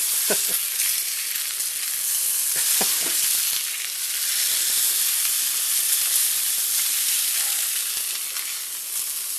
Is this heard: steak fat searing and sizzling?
yes